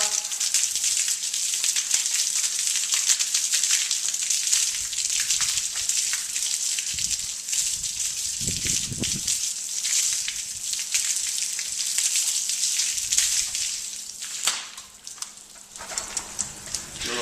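Water sprays over a bicycle being rinsed during washing, a steady close hiss and patter of spray with a few low knocks, brief thumps near the middle and a short lull near the end.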